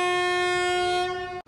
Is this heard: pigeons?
no